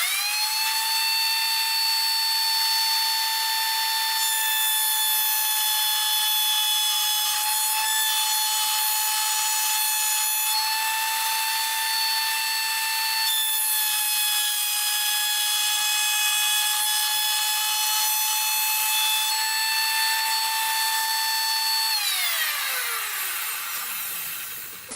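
A router bit cuts a dovetail in wood for an economy bowl, giving a loud, steady high whine that holds for about twenty seconds and then winds down in pitch as the motor spins to a stop.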